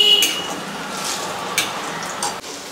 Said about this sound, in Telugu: తాలింపు చిట్పటలు ఆడుతుంది కదండి